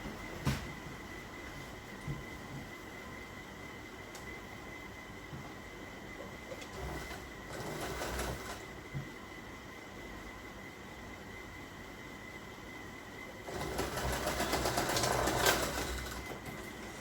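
A sewing machine top-stitches fold-over elastic on knickers fabric, running quietly with a faint steady hum and a louder burst of stitching near the end.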